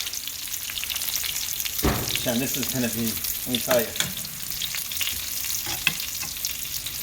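Chicken cutlets frying in a pan on a home stove, a steady close sizzle and crackle with someone speaking over it partway through.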